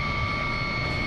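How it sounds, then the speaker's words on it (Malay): A police helicopter flies over flood-hit areas of Johor during an aerial survey, its engine and rotors a steady, continuous drone with a high whine, heard alone without talk. "helikopter dikendalikan Superintendent Muhammad Fairuz Jamil dan dibantu ASP Syahri"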